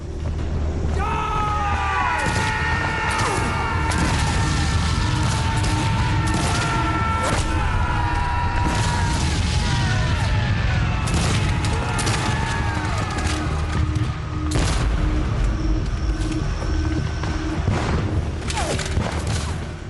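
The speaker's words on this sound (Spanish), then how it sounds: "reciben más de 800 disparos de rifle" Rapid musket fire from the Battle of Gettysburg crackles in dense volleys with booming reports, layered with tonal music-like sounds and continuous battle noise throughout.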